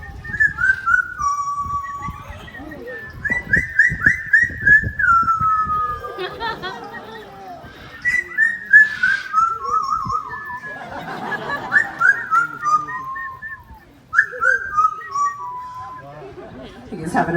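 A parrot at a safari park bird show whistles a lilting tune in repeated rising and falling phrases, loud and close, with someone talking and an audience chattering and laughing in between.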